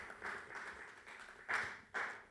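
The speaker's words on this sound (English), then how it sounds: "Round of applause, ladies and gentlemen" Faint applause from an audience at a poetry awards ceremony, a soft steady patter of clapping with two brief louder swells, heard at a distance with no talk over it.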